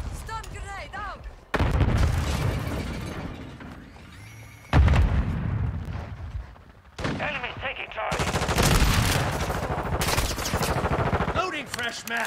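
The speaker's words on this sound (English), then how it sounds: "Stun grenade out!" In Modern Warfare 2, bursts of rapid gunfire and a heavy stun grenade blast are heard up close, with abrupt loud and quiet stretches and voices calling out between shots.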